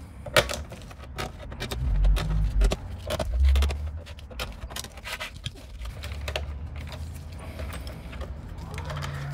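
A hand tool works the panel nuts loose on an Avalon synthesizer, giving close, irregular metallic clicks and ratcheting ticks with small scraping bursts, and no talking.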